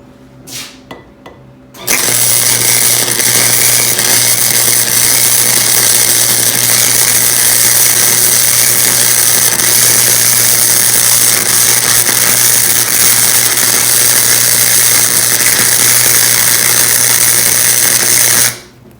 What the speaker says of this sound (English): That's what's good about welding in a straight line.